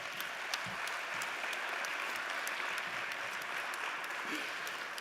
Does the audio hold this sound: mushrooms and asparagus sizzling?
no